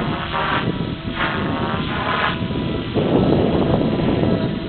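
A T-Rex RC helicopter idles up with a steady, loud broadband whir of rotor and motor, close by and swelling slightly toward the end, with no voices.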